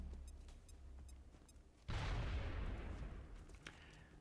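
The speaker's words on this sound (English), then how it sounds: "Grenade out." A grenade goes off in the video game XCOM Long War as a single sudden boom with a deep, rumbling tail that fades over a couple of seconds, heard after faint quiet clicks and no speech.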